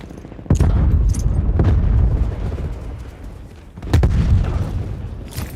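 A frag grenade goes off in a first-person shooter match, with a heavy boom followed by rumbling gunfire and a second explosion a few seconds later, loud and close.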